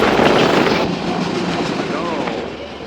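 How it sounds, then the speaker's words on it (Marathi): An express train runs along the Konkan railway in Goa, giving a loud, steady rumble and rattle that fills the whole stretch with little change, while faint voice-like sounds surface in the noise. "जबरदस्त ट्रेन चालू आहे."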